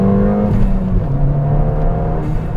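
A Stage 1 Ford Fiesta ST revs hard accelerating in second gear, its exhaust droning loud and close with a steady rising pitch, no talking.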